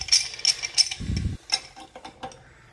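A Toto toilet's sensor mechanism operates with small clicking, ratchet-like mechanical ticks, a brief low buzzing whir in the middle, then a few scattered light clicks, close and fairly quiet.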